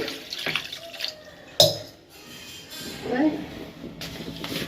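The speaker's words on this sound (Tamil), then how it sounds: "தண்ணி ஊற்றிட்டு" Water splashes and pours briefly into a pressure cooker, with a sharp clatter and some faint talk and kitchen noise around it.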